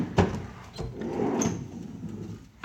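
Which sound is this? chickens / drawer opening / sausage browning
drawer opening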